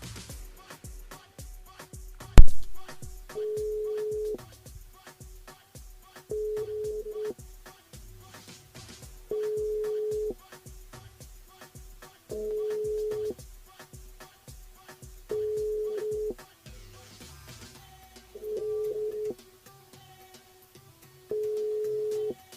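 A telephone rings in regular bursts, seven evenly spaced tones over a faint rhythmic beat of background music.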